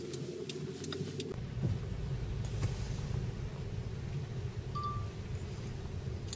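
Steady low rumble inside a moving car, heard from the cabin with a camera clipped to the rearview mirror, droning evenly throughout, with a faint short tone near the end.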